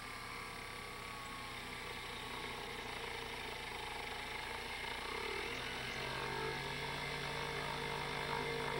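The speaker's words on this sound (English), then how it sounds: "Turn your lathe at a moderate speed" A lathe turning steel while repivoting a clock arbor gives off a steady, fairly quiet motor hum and whine, with a faint cutting sound growing slightly louder toward the end. No speech is heard.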